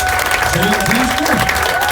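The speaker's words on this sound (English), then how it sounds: "please give a big round of applause to our gentlemen who are on the panel today" Loud, even applause from an audience greeting panel members, steady clapping throughout the short stretch with a voice briefly speaking over it.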